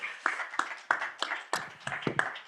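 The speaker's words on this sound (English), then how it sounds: "Can we please give them a round of applause, just as an appreciation?" A handful of people clap for forum panelists, sparse, irregular claps at moderate distance, fairly quiet, with no talking.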